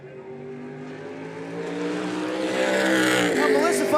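A SMART Modified Tour race car circling Tri-County Speedway: a harmonic engine drone that rises in pitch and grows louder as it approaches, while a commentator talks over it.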